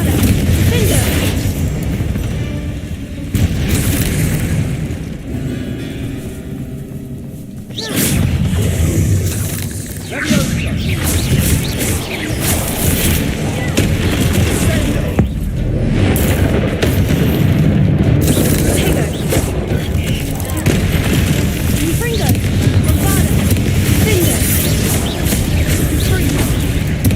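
Magical spell explosions from the Hogwarts Legacy video game, with the Confringo and Bombarda spells producing repeated loud booms and crashing blasts over a busy game soundscape, with brief dips between bursts and some voices mixed in.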